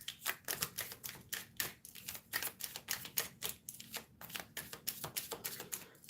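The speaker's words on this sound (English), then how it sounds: "I will draw 2 cards from this deck." Tarot cards shuffled and drawn from a deck, a rapid run of crisp papery riffles and flicks repeating steadily, close and fairly quiet, with no talking.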